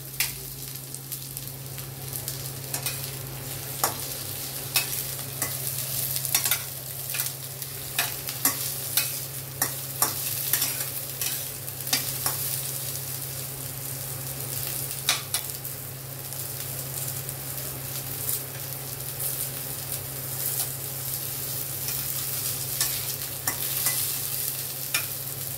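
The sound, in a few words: frying and stirring potatoes and pointed gourd until reddish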